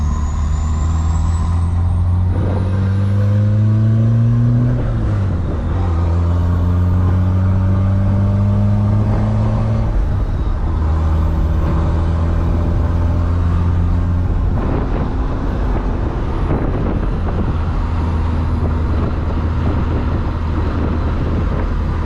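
A rebuilt Volkswagen Caddy Mk1 pickup drives along, its engine loud and steady from inside the cab, revving up and down through several gear changes with road rumble beneath and no talking.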